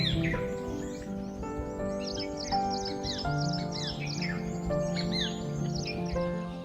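Several birds call and chirp through the wetland air of Keoladeo bird sanctuary in Bharatpur, with rapid overlapping tweets and whistles over a soft continuous background hum.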